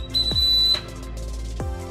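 A small hiking whistle on a multi-tool accessory gives a short, shrill, steady blast lasting under a second, heard up close amid light handling knocks.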